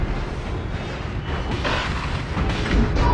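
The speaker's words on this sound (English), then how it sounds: "Your turret has been destroyed." Turret being destroyed in Honor of Kings, a series of loud booming impacts and bursts layered over busy game effects, with a few sharper hits near the end.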